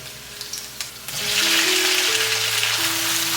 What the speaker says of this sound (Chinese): 爆香了之后呢，加入酸菜